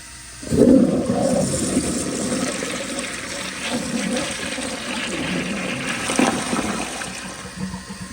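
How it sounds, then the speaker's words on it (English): A 2001 Kohler Tyrrell service sink flushes up close: a sudden strong rush of water settles into a steady roaring swirl that drains, with a second surge near the end. "let me do more of a close-up flush now"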